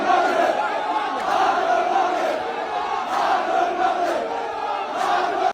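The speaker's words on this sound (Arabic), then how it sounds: "وهاد الشعارات كيقولوا الجماهير السعوديه" Saudi football fans in a stadium chant in unison at the Moroccan team, a loud, dense roar of many voices with a steady rhythmic swell throughout.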